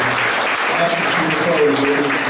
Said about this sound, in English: And I want to give her a round of applause for my mom.